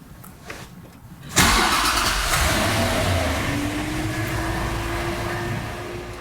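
A 2021 Bentley Mulsanne 675 Edition by Mulliner's V8 cranks briefly and fires up with a loud burst, then settles into a smooth, steady idle that slowly rises in pitch, close by with no talking.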